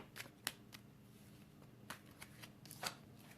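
Tarot cards drawn from a deck, with soft papery shuffles and several sharp card snaps spaced irregularly, close and quiet, no talking.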